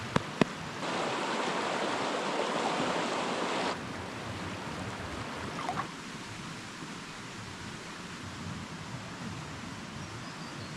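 A river flows beside a winter campsite in remote New Zealand, a continuous rushing water sound, loud and close, with a brief louder burst early on before settling into an even flow.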